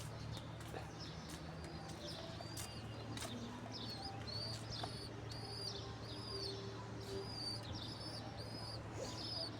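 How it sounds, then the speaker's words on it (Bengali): Pet pigeons on a rooftop, a pair with a chick, coo softly and low, while small birds chirp repeatedly in the background; the whole scene is faint and distant. "এই যে দেখুন শখের কবুতর"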